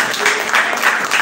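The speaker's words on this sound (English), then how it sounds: "There's some clapping" Church congregation clapping during a sermon, a steady wash of applause with no voices over it.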